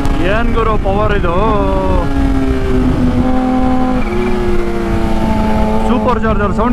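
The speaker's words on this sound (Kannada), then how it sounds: "ಸೂಪರ್ ಚಾರ್ಜರ್ ಸೌಂಡ್ ಕೇಳಿಸ್ಕೊಂತ ಇದ್ದೀರಾ" A Kawasaki H2 Carbon motorcycle's supercharged engine runs loud and steady, its tonal whine rising and settling as the throttle varies, heard close up while riding.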